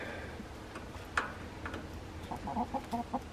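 Backyard chickens clucking in short soft bursts, a few closely spaced calls near the end, over a quiet background with a single sharp tick early on.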